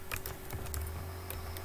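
Keys clatter steadily on a computer keyboard as a web address is typed in, a quick run of soft close clicks over a low steady hum, with no voices.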